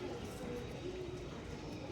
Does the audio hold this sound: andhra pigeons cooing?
yes